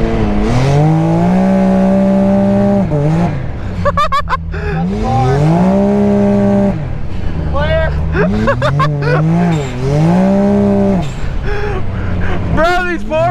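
A Can-Am X3 side-by-side on 33-inch tires drifts on a driveway, its engine revving up and down in repeated surges with tire squeal and spinning, loud and close, with someone talking over it.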